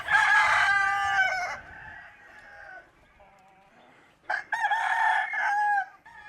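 Roosters crowing in a traditional village in Candi Dasa, Bali: a loud nearby crow up front, quieter crows trailing off, then another strong crow.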